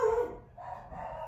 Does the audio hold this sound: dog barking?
yes